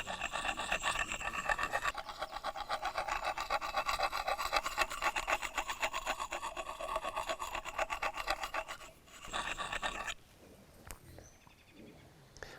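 A knife edge being drawn over and over across an improvised survival sharpener, giving a steady, close rasping scrape in quick rhythmic strokes that stops near the end, leaving a few quieter scrapes.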